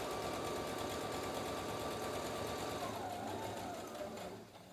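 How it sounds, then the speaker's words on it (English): A sewing machine stitches a fabric face mask casing between pins, a steady close rapid mechanical whir that slows and fades at the end. "So I'm just sewing between the pins."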